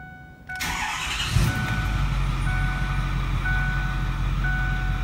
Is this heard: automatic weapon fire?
no